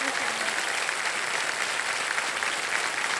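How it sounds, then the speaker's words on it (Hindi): Steady, dense applause from a studio audience on a televised quiz show, welcoming a contestant; an even wash of clapping sustained throughout without a break. "और आप सब लोग ताली बजा दीजिए स्नेहा जी के लिए"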